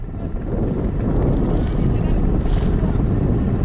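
A 2 hp Honda four-stroke air-cooled outboard runs steadily on a homemade skiff, a loud continuous engine drone with wind buffeting, close to the microphone.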